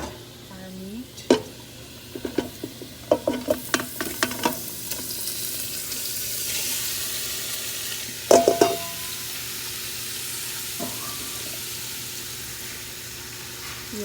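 Ground beef browns in oil in a pan for homemade beef chili, with a steady sizzle and frying crackle beneath clusters of scraping and stirring clatter that come in bursts and then ease off.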